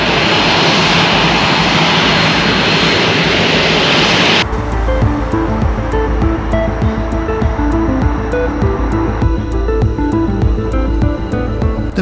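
An aircraft engine roars loudly at Boeing Field airfield, a broad rushing wash that gives way to a steadier, lower droning hum, with no talking.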